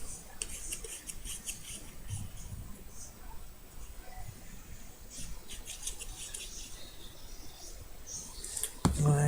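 A paper card is glued at an angle onto a scrapbook page for a black-and-white card challenge, with close, continuous soft rustling and rubbing, a few light taps, and a sharper knock near the end.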